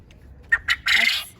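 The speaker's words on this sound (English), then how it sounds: "That's a rooster. He's the noisy one." Two short clucks followed by a longer, loud crow from a rooster in a coop, fairly close and brief.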